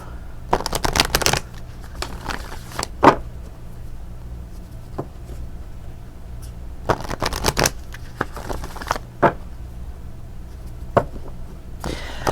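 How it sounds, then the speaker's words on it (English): Moonology oracle cards being shuffled by hand, close up, in repeated quick riffling bursts separated by lighter taps and handling. "let's go ahead and pull a Moonology card"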